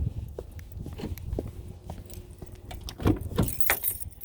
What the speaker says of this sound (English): Forgot to bring out my keys.